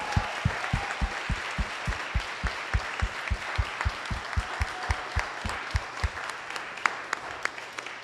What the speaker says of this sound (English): Can we get a round of applause for Jamie and Cassidy and their teams